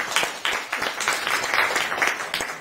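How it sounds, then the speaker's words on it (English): A small round of applause at a real estate investors' meeting, a brief scatter of close hand claps in uneven bursts from a modest group. "I give her a little round of applause for helping us out"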